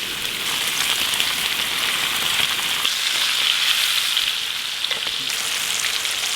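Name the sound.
cod pieces frying in hot grease in skillet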